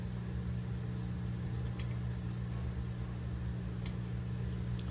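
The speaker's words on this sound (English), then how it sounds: "Sorry about that washer in the background" A washing machine runs steadily in the background through the whole stretch, a constant low mechanical hum and drone with no talking over it.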